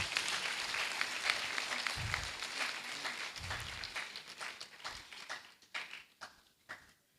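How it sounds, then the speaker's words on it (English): Steady applause from a graduation congregation audience at a university ceremony, dense and sustained for several seconds before thinning into scattered individual claps. "Shall we give a round of applause?"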